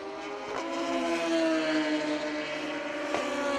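A Suzuki Hayabusa and another drag racing motorcycle launch side by side at a drag strip, engines screaming loud and steady with rising whine and gear-change dips.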